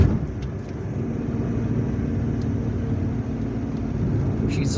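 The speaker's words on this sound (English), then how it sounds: "So now we are driving up this ramp." A car climbs a ramp on a shortcut in Algiers, a steady low engine and road rumble holding at an even level throughout, with faint higher noise near the end.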